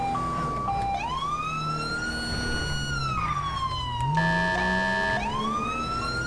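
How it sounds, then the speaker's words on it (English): A police car siren in the video game GTA 5 wails in long rising and falling sweeps, loud and continuous, with no speech over it. "see the lights and sirens, man"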